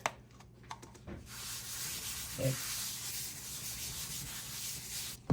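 A cloth or sponge rubs The Pink Stuff cleaning paste across a surface, a continuous hissing scrub of steady strokes between a few brief knocks at the start and end.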